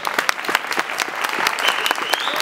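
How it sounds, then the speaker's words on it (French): An audience at a debate evening breaks into brisk, dense applause, many hands clapping together close by for the whole short stretch. "On peut les applaudir."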